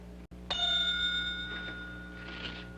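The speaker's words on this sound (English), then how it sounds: "Whenever there's a bell, down comes a layer." A bell rings once on a three-layer cake machine in a 1960s game show, a bright clear ding that rings on and fades over about two seconds, heard alone over a low hum.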